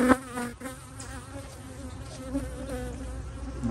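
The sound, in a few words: honey bee buzzing near hive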